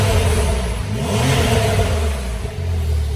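A Porsche 911 Carrera PDK 3.0 twin-turbo with a 450 bhp engine and sports exhaust gives a brief rev that rises and falls, a deep grumbling engine note close by and continuous throughout.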